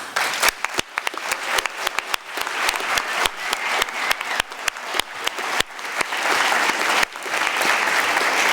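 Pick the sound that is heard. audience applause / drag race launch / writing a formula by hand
audience applause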